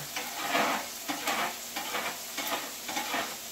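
Burgers frying in grease in a pan for mushroom Swiss hamburgers, a close steady sizzle with rhythmic scraping and stirring strokes pushing the grease around.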